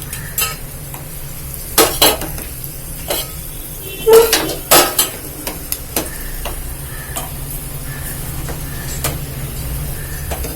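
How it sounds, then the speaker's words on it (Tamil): Dried bitter gourd vatral fries in hot oil in a pan, with a soft constant sizzle under sharp, irregular clinks and scrapes of a metal spoon stirring against the vessel. "இப்போ நான் வறுத்து காட்டுறேன்ப்பா"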